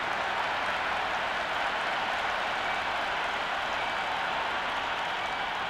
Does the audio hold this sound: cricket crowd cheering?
yes